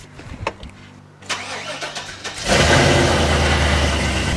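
A truck engine cranks after some quiet handling noises, then catches and settles into a loud, steady idle close by.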